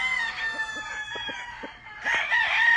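A rooster on a Louisiana farm crows near and loud, one long cock-a-doodle-doo followed by scattered short clucks, then a second crow rising at the end.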